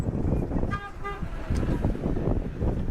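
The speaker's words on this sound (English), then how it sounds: "That is one of the old Mercedes city buses coming by." An old Mercedes city bus rolls past on a barrio street in León, Nicaragua, with a couple of short horn toots early on over a steady roar of passing road traffic.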